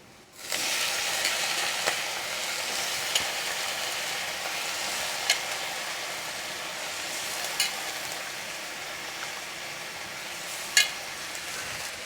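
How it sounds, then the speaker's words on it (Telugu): Eggplant pieces sizzling in hot oil in a pan for a home-grown organic eggplant curry, a steady bright crackle throughout with occasional sharp clinks of a spoon against the pan. "ఇప్పుడు మనం వంకాయ ముక్కలు కూడా వేసేసుకుందాం"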